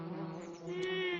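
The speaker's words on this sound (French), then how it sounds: "Si on jouait tous aux abeilles? Bzz, bzz, bzz." Cartoon bee buzzing in a children's animated show, a steady continuous drone that holds for the whole short moment, fairly loud and close, with no talk over it.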